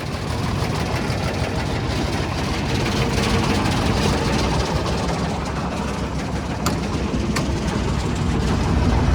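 An Intimidator diesel UTV runs with a loud, continuous, close engine drone full of rattling and vibration, with a couple of faint clicks.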